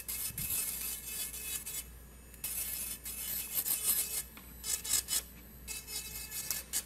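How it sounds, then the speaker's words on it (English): An electric nail drill fitted with a magic wand bit files a fingernail, giving a steady high rasping buzz with short pauses and uneven bursts, close and moderately quiet. "Now we're going to take the magic wand bit and finish filing the nail."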